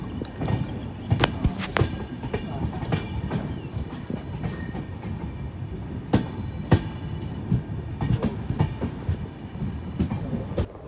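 A passenger train pulling into Kankavli station on the Konkan line during the monsoon, with steady wheel rumble and repeated sharp clickety-clack rail joints and clanks heard close from on board for several seconds.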